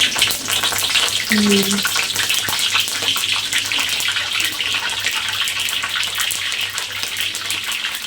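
Sizzling and spattering as a blended spice paste fries in hot oil for chicken gulai, a steady crackling hiss that carries on without pause from start to finish.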